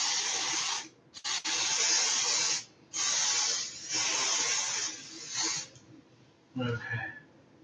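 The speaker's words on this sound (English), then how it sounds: "Doesn't really say how much to spray on here." Ski base cleaner is sprayed onto a ski in several sharp hissing bursts of about a second each with short pauses between them, close and fairly loud, followed by a faint handling rustle at the end.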